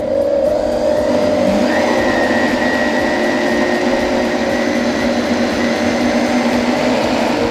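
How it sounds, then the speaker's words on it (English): A high-speed blender runs continuously while blending a gelato base, producing a loud, steady motor whine with a slight pitch shift early on and no talking. "Now we place in the blender."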